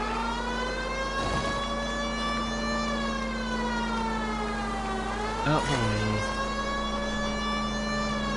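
A police car siren wailing in a steady, harmonic sweep during a car chase in LA Noire, loud and continuous over engine noise, with a brief shouted voice and a squealing tire or crash sound near the end.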